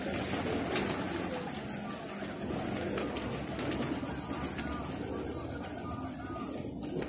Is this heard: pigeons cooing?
yes